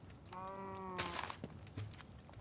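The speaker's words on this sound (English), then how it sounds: "Why does it sound like the cow just went no?" A cow in a video game lets out a short, wavering tonal call, fairly faint, followed by a soft thump and a few quiet footstep-like taps.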